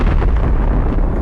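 Explosion of an armored vehicle in a Russian column, struck by a drone on a road, a dense, continuous heavy rumble with low boom filling the whole short stretch, loud and unbroken, with no voices.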